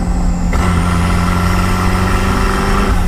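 Loud, steady engine roar from a turbocharged Mazda Miata running hard, a dense continuous drone with a rising whine that holds for the full few seconds with no talk over it.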